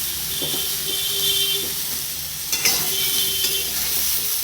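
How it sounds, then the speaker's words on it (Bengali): Mixed vegetables fry in a pan with a loud, hissing sizzle, broken by a few scraping stirs of a spoon against the pan. "আমার মোটামুটি ভাবে সমস্ত সবজিগুলো ভাজা হয়ে গেছে"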